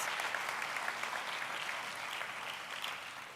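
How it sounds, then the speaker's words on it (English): Faint, even applause from a high school graduation ceremony audience, a distant wash of many clapping hands that holds steady and tapers slightly toward the end. "You can give them a round of applause."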